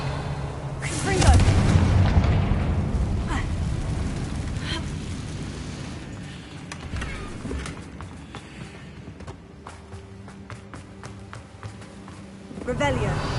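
A fiery Confringo spell explodes in the Hogwarts Legacy video game: a deep, booming burst early on, followed by a long fading rumble under game ambience with scattered light taps and footsteps.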